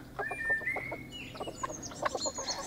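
A small flock of chickens clucks and chirps nearby, rapid soft repeated clucks mixed with a few higher squeaky peeps, steady and moderately loud with no talk.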